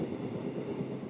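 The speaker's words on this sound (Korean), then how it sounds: "기차가 시골 마을의 누런 들판 사이를 지난다." Train passing between yellow fields in a countryside village in Yecheon, a steady low rumble of rolling carriages at a moderate distance, fairly quiet and continuous, no voices.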